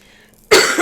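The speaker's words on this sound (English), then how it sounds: "Been doing a lot of coughing" A single sharp, loud cough bursts out close to the microphone after a near-silent pause, with a short rasping tail.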